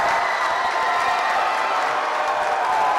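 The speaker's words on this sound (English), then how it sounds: "Listen to the crowd." A crowd roars steadily and loudly at a high school girls basketball playoff game after a game-tying layup, with the student section cheering and clapping in a dense, continuous wash of sound.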